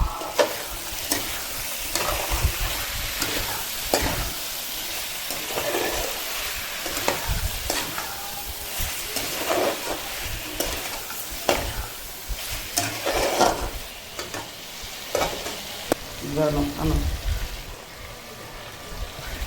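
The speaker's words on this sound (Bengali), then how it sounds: "স্বাদ মতো নুন দেওয়ার পরে একটু নাড়াচাড়া করে ভেজে রাখা আলুগুলো দিয়ে দেবো।" Bengali chicken kosha with fried potatoes being stirred in a sizzling pan, a spoon scraping and clattering in uneven strokes over steady close frying hiss, fairly loud with no voices.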